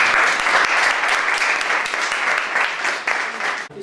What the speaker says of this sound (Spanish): yo espero que me deis un aplauso